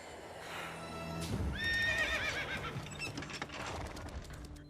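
A Mustang horse gives a loud, shaky whinny over soft hoof clops and shuffling, the neigh rising then trailing off.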